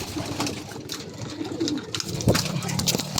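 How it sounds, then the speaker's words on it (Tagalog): Pigeons coo softly and repeatedly among a breeding colony in a loft, the low murmuring rolls overlapping steadily under a shuffle of wingbeats and movement close by. "Itong ibon na to pumasok na sa patukaan, habang yung iba nagsisikain dito sa baba."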